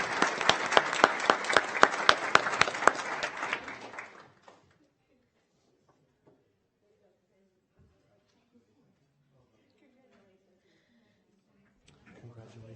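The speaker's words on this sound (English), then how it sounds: "So please, a round of applause for these 2 young ladies." An audience at a board of education meeting claps for two young choir and band students, a dense burst of hand claps lasting about four seconds and then fading quickly to near silence, with faint room sounds afterward.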